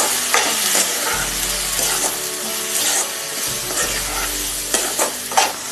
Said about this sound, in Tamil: அதை எல்லாத்தையும் போட்டு நல்லா வதக்கிட்டு